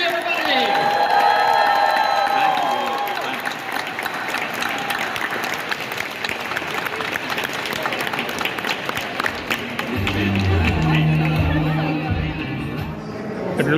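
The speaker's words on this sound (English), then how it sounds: "let's give a big round of applause for Mr. Tyler Lee Wallace, Mr. Dick Warlock, Stacey Duncan, Tom Atkins" An audience at the Spookala horror convention in Ocala, Florida claps and cheers loudly for the Halloween 3 cast reunion, with sustained applause and whoops and crowd chatter throughout.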